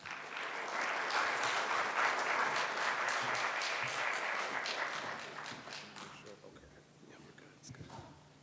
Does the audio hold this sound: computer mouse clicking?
no